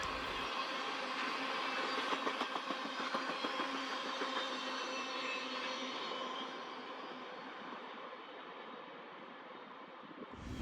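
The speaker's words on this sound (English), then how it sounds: "another train came past, sneaking up on me again and headed in the same direction. This one was another mixed manifest." A mixed manifest freight train rolls past in Canmore, Alberta, its steady rumble and rhythmic wheel clatter holding loud and close before slowly easing away, with no voices.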